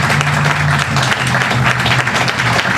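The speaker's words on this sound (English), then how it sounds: "let's first of all give a big round of applause to Chief Medrano" Steady, dense applause from an audience at a ribbon-cutting ceremony for a Gardena juvenile justice and intervention program, sustained and fairly close, with a low constant hum underneath.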